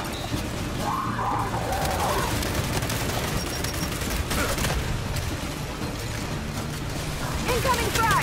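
Continuous gunfire in the video game Gears 5, with dense overlapping rifle bursts, mechanical clatter and impacts filling the whole stretch at steady loudness, along with faint game voices.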